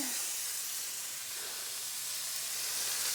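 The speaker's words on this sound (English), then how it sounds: "Add a little more avocado oil. And I'm going to let that sear for about 2 minutes on each side." A leg of lamb sears in avocado oil in an Instant Pot, making a steady, fairly quiet hiss and sizzle that holds without pause.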